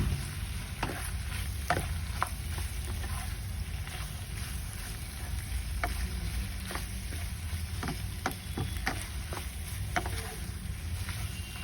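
Tomato elbow macaroni is stirred and mixed in a hot pan, a dense continuous sizzle with repeated light scrapes and taps of the spoon against the pan, fairly uniform in loudness.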